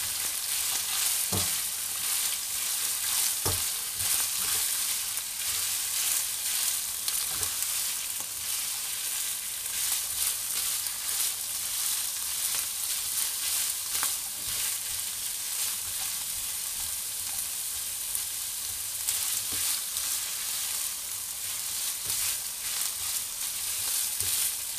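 Beef chilli frying in sauce in a pan, with a constant dense sizzle close up and sharp clicks of a spoon stirring at irregular intervals throughout.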